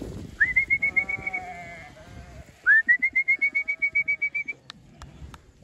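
Young ram lambs bleat in two long, loud, wavering calls close by, each a pulsing series of cries, with a few sharp knocks near the end and no talking.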